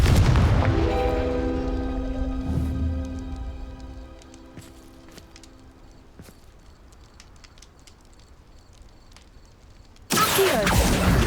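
Confringo fire spell explosions in Hogwarts Legacy, a booming blast with ringing tonal tail that fades over several seconds, then a second loud burst near the end, no talking.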